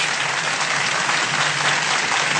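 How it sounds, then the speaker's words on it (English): Studio audience applause greeting a wrestler at a televised interview, a loud, dense and continuous roar of clapping that holds level throughout without any voices. "Gotta wait for that applause to kind of go down here."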